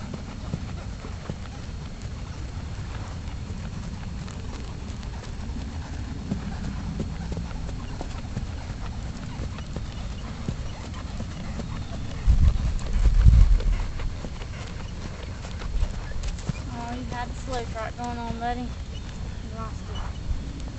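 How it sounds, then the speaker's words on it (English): Horse hooves clip-clopping at a real slow trot in a round ring, a steady soft rhythmic beat under ongoing outdoor noise, with people talking nearby. "It's a real slow trot."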